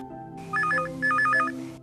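A telephone rings in two short electronic trilling bursts, loud and clear over a steady low musical drone, with no voices.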